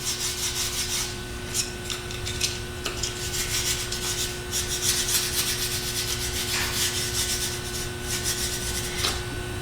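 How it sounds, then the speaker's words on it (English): Steady, continuous rasping of a tool's knurled end sanding out a channel in wood up close, with brief harder scrapes breaking the even rubbing rhythm. "The back end with the knurling on it works really well for just sanding this channel out"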